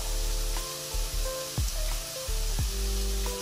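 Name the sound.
onions frying in pan with turmeric, salt, chili powder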